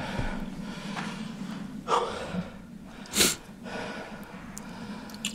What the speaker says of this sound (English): Listen to that smoking breathing.